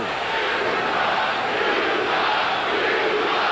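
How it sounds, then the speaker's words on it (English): Basketball arena crowd at the 1996 NBA Finals Game 2, Bulls versus SuperSonics, roaring in a dense, sustained wall of voices as the fans react to a non-call, steady and loud throughout with no commentary over it. "the crowd reaction to the last, what they felt was a non-call"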